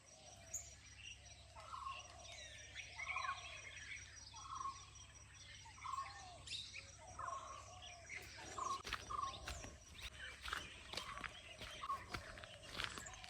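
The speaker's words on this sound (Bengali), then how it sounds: "জাস্ট পাখির আওয়াজগুলো শোনো।" Morning birdsong near a forest at Masinagudi: repeated chirping calls rise over a low steady background hum, with a few sharper nearby notes and clicks later on.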